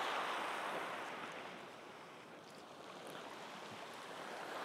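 Waves washing on the beach at Brighton at sunset as the tide comes in, a soft continuous surf hiss that swells and ebbs, fairly faint and distant with no voices.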